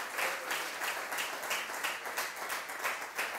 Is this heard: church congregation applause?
yes